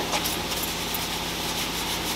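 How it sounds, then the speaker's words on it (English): A brush scrubbing dust off car brakes, a continuous close rasping rub with no pauses over a couple of seconds. "So let's start brushing."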